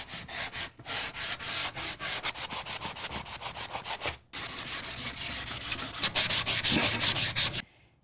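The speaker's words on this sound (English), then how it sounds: "I'm going to do a light sand on the outside edges of this little" Light hand-sanding along the outside edges of a small wooden sign frame, with quick back-and-forth rubbing strokes in a steady rhythm, close and loud, with a brief pause midway.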